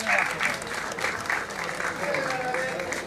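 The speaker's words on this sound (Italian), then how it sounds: "Un applauso per il nostro modafo." An outdoor crowd applauds a driver at a slalom race in Oppido Mamertina, a dense, steady spatter of clapping that holds for about three seconds, with faint voices mixed underneath.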